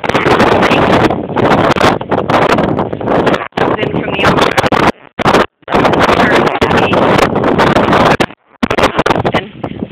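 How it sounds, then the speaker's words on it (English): Strong wind at a beach buffets the microphone in loud, roaring gusts that drop out briefly a few times, sounding close and harsh. "Of course, it's a windy day"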